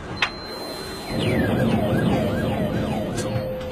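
Rising and falling electronic siren tones sweep repeatedly as a laser monitoring system activates on approach to the Carajás freight train in Brazil, steady and moderately loud against a constant rumbling background.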